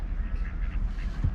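Ducks at a nature park in Syracuse, Utah, quacking in soft, raspy bursts over a low outdoor rumble, with a slightly stronger call near the end.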